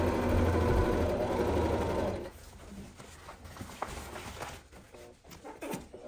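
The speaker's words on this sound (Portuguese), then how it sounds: "Aqui eu vou costurar dos dois lados com a margem de costura de 1 centímetro." Sewing machine stitching both sides of a nylon bag with a one-centimetre seam allowance, a fast loud rhythmic whir for about two seconds, then quiet handling clicks and rustles.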